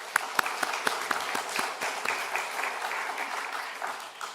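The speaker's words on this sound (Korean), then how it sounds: "말씀 주신 하나님께 감사 영광의 박수를 올려드립니다" Church congregation applauding during a Sunday morning service, dense steady clapping from many hands throughout, fairly close and even in level.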